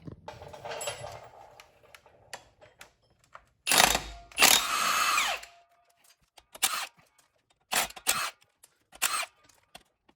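A power tool buzzes in loud, short bursts, pausing between them, while flywheel bolts are removed from a Mustang during a clutch replacement; a longer burst comes in the middle and several brief ones follow, up close.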